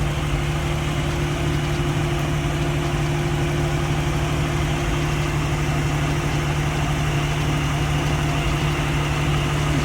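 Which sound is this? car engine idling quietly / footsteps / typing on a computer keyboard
car engine idling quietly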